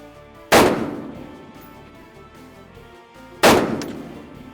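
A deer hunting rifle fires twice outdoors, about three seconds apart, each a loud, close blast with a long rolling echo trailing off.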